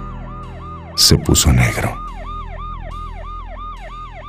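An ambulance siren sound effect wails in a steady, fast rising-and-falling cycle, loud and continuous, while a voice talks briefly over its start.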